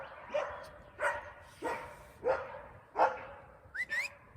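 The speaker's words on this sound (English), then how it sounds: "Hush, crazy dogs." Dogs bark outdoors, somewhat distant and faint, with about six evenly spaced barks followed by a short rising whistle-like whine at the end.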